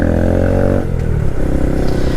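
A 2022/2023 Honda Grom 125 motorcycle engine idles and revs close by with a loud, throaty buzz that drops in pitch as the throttle closes, alone without talk.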